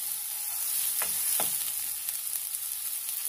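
Homemade curry dip sizzles steadily in a pan while a utensil stirs it, giving a constant bright frying hiss with a couple of brief scraping strokes, no voices.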